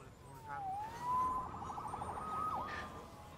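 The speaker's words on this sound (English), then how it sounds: "Saved by the siren." Police siren in the Marvel's Spider-Man game on PS4, a wailing tone sweeping down then holding steady and rising again over low ambient rumble, moderately loud and unaccompanied by talk.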